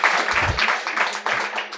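Audience applause breaks out in a loud burst, uneven clapping from a live crowd with a few low thumps mixed in, close and fairly strong throughout.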